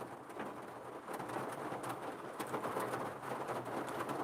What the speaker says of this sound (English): Yeah, it's raining. It's raining hard.